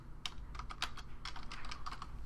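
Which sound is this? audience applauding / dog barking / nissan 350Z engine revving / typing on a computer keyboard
typing on a computer keyboard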